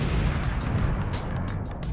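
A heavy explosion effect roars in a sustained, loud rumble with crackling bursts and debris-like pops throughout, heard alone without any voices.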